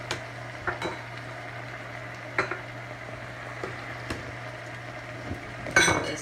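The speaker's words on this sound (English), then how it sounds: "We're going to get some of this spinach thrown in there." Spinach is tossed and stirred in a hot pan for a spicy bok choy chicken dish, with a low continuous sizzle beneath scattered light scrapes and clicks of a utensil against the pan.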